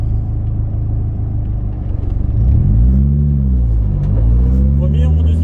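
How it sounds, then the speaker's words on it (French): A Toyota AE86 engine revs up sharply as the car accelerates hard into a corner for a power-over drift, the pitch climbing and wavering in close loud sweeps while people talk in the car. "je rentre dans mon virage et j'accélère d'un coup brutalement pour faire partir l'arrière, pour créer le survirage"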